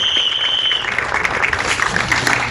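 An audience at a film event applauds the director, a loud, dense burst of clapping from many hands that carries steadily throughout, with a faint tonal hum fading early.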